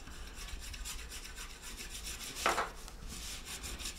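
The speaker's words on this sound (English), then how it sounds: "I'm just going to put some Trex on the board and just rub it in" Trex vegetable fat being rubbed into a sugarcraft board by hand, a soft repeated scraping and rubbing close by, with one brief louder stroke partway through and no talking.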